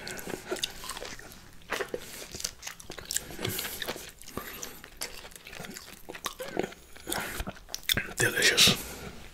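Close-up biting and chewing of juicy mango and orange slices, with wet crunchy bites and squishy mastication sounds repeating irregularly, soft whispered talk in between.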